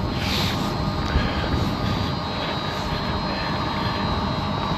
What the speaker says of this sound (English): Probably sick of the noise of this pump.